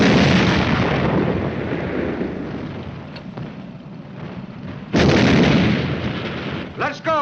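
Tank cannon rounds fired at a German tank in a 1951 war film, heavy booming blasts and roaring explosions filling the scene, a fresh loud blast hitting midway, with a voice briefly calling out near the end.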